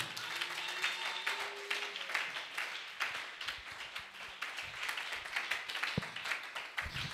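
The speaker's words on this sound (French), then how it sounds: "Acclamons pour le Seigneur." Church congregation claps in a faint, fairly steady wash of applause with rhythmic pulses, heard from a distance, with a brief thump near the end.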